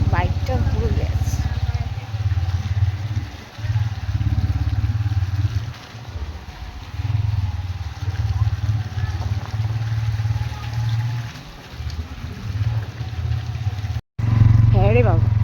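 A motorcycle engine drones continuously as it rides along a muddy, rain-damaged road, surging and dipping with the rough surface. A brief cut-out comes near the end.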